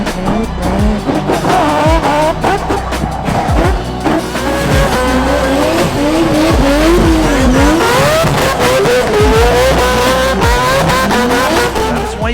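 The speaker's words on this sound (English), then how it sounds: "Obnoxious, silly engines in silly cars, doing silly things with very silly drivers as well" Drift cars at Mondello Park, including a 1JZ-swapped AE86, scream loud and close with high revs rising and falling and tires squealing continuously throughout, no voices over the roar.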